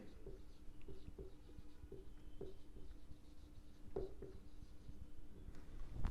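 Pen scratching on paper in a quiet room, a string of short, faint strokes and taps in an uneven rhythm as figures are jotted down by hand.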